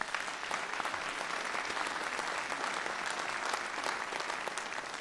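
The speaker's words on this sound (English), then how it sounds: "maybe a round of applause for them" Applause fills a town meeting hall for a group of honored students, a steady dense wash of many hands clapping at even loudness throughout.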